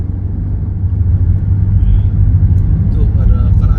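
A car drives along a road in Saudi Arabia near Usfan, heard from inside the cabin as a steady low rumble and road roar without any break.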